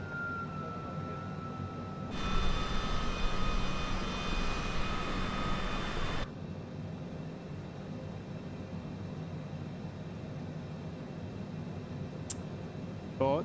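Landing gear and flaps lowering in a CJ4 business jet flight simulator: a steady mechanical whir rises abruptly over the cabin drone, holds for about four seconds with a shift partway, then cuts off, leaving the engine hum.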